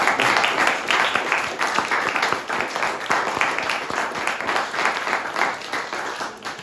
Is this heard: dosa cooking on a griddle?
no